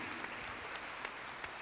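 A church congregation claps hands together in praise, a dense, steady wash of many hands applauding with no break, heard from within the crowd.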